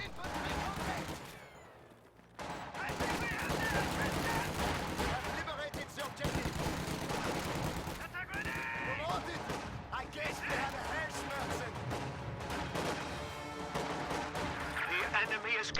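Dense World War II strategy game battle gunfire, bursts of machine gun and rifle shots with explosions, loud and continuous under a commentator's talk, with a brief lull near the start.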